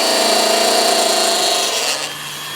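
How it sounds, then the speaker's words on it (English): A small V chisel scrapes and cuts a groove into turned wood, a loud close rasping hiss that holds steady before easing off near the end. "with a little V chisel like I'm using here, you can change that angle and get different definition of that V groove that's in the wood"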